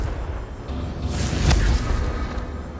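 A Confringo blasting spell goes off in Hogwarts Legacy as a single close, loud explosive burst with a deep low boom, rising out of a steady rumbling game backdrop and fading into a lingering roar.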